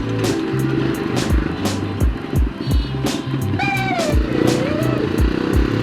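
A vintage 1961 Jawa 250 motorcycle runs up close with a loud, steady exhaust note, its engine throbbing in a rapid rhythmic beat across the whole stretch, with a few brief whistling tones rising over it.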